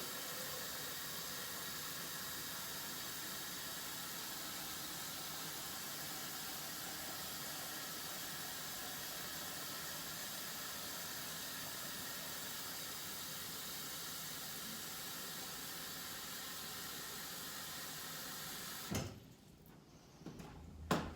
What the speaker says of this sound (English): get a pot together with some boiling water